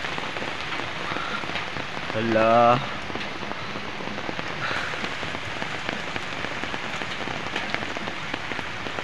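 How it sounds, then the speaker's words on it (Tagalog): Steady rain patters on a surface throughout, with a brief spoken word partway through. "Umuulan."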